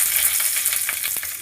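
Two bay leaves sizzle in hot oil in a wok, a close, steady crackling hiss with small pops scattered throughout.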